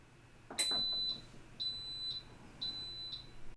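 Instant Pot electric pressure cooker set to high pressure, giving a sharp electronic beep followed by three more short high beeps, evenly spaced and alone in a quiet room.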